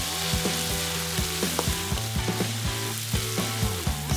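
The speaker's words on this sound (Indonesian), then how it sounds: "Tumis bumbu halus dan serai." Ground spice paste and lemongrass sautéing in a pan, a steady close sizzle with occasional stirring scrapes, while gentle background music plays throughout.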